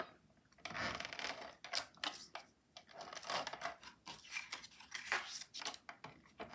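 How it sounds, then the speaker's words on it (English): Tape is pulled and pressed onto the tabs of a small paper gift box, giving close, soft crinkly rubbing and tearing noises in irregular bursts at low level. "now we'll go ahead and put tape on those 4 tabs again"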